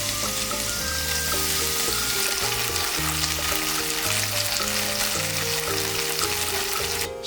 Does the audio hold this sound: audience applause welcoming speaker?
no